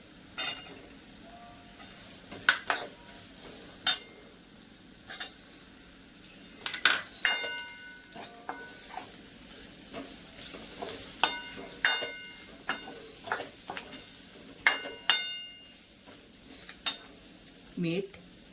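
Potatoes stirred in a frying pan for potato rassa bhaji, with a spoon repeatedly scraping and clinking against the metal in irregular strokes over a low background.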